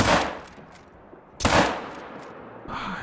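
A 45-70 rifle fires twice in a hunting video game, each report a sharp, loud crack with a rolling tail, the shots about one and a half seconds apart, with a mechanical reload clatter at the end.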